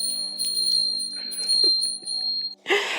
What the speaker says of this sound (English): We got to ring the bell on that one.